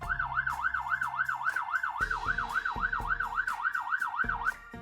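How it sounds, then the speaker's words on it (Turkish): A wailing fire engine siren rises and falls steadily over a low rumble, loud and close, with a vehicle horn-like drone joining partway through. "İtfaiye aracının sesiydi."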